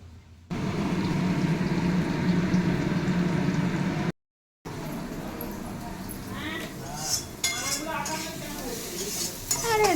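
Meat cooks in a pot for a rainy Sunday picnic at a grandmother's home, with steady bubbling and sizzling and scraping stirs against the metal. Voices talk over the cooking in the second half, after a brief dropout.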